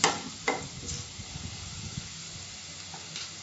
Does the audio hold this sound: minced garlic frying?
yes